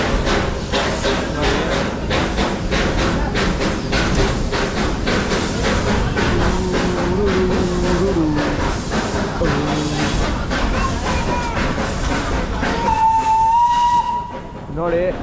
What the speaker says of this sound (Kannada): ಅಲ್ಲಿ ಕೋಲ ಟ್ರೈನ್ ವಿಜಿಲ್ ಹೊಡಿತು